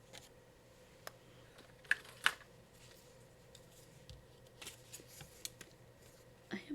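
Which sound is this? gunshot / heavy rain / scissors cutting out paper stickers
scissors cutting out paper stickers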